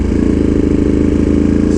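Motorcycle engine idling with the exhaust baffles removed, a loud, close, steady low-pitched throb with an even rapid pulse and no talk over it.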